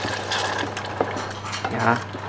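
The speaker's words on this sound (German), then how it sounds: "Ich gebe halt nochmal Wasser dazu" Water is poured into a pan of butter sauce being made for manti, giving a steady liquid trickle and splash at close range, with short bubbling bursts.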